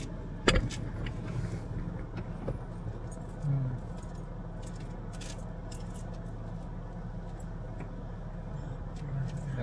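Cars idle and pass behind a parked car stopped in the middle of a road, a steady low traffic rumble with a few sharp knocks and rattles near the start.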